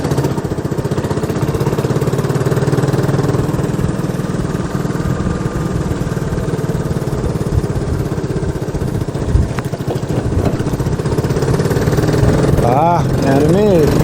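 A Honda Helix scooter's engine drones steadily and loudly throughout a ride, a continuous mid-pitched hum with slight rises and falls, while someone talks over it.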